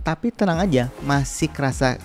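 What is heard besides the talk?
None of the usual background noises is heard.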